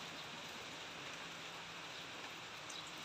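Steady rain falls at a house, a soft continuous hiss of drops on surfaces with no voices, faint and even throughout.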